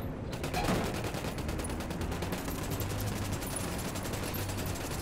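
Gunfire in Tom Clancy's Ghost Recon, played on PC: rapid automatic shots pulse steadily and loudly for the whole stretch, over a dense rumbling battle background.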